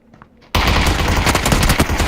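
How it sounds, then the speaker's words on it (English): A PP submachine gun is hip-fired in a video game after a brief quiet moment. One loud, rapid automatic burst rattles on for under two seconds, close and alone. "Little hip fire PP from Pete."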